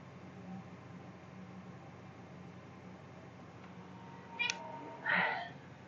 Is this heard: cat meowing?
yes